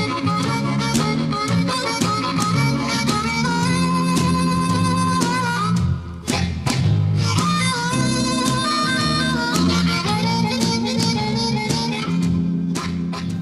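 A harmonica plays a wailing classic blues riff with bent, sustained notes over steady backing, loud and continuous throughout.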